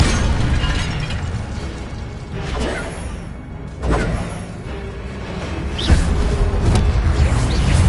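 Repeated fiery bursts and booms of the Incendio fire spell in Hogwarts Legacy, loud whooshing blasts over continuous rumbling combat noise, a couple of sharper pops standing out.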